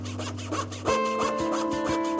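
A foot-powered marquetry saw rasps through wood in quick, regular strokes, with a steady mechanical hum underneath; close and fairly quiet, no voices.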